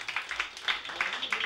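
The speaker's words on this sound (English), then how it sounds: "give him one good round of applause for that" A small pub audience at the Anvil Bar in Rylane gives a singer a short round of applause: a handful of quiet, close hand claps in loose, uneven bursts.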